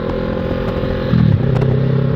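A Kawasaki ER6F Ninja 650 motorcycle engine runs loud and close with a steady drone, then rises briefly in a short rev before settling back.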